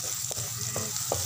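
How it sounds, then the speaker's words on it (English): Garlic and onions frying in a pan for a spicy butter-garlic shrimp dish, a close steady sizzle with a few soft stirring scrapes, and no one speaking. "Hintayin na lang natin mag-brownish ang ating garlic at onions."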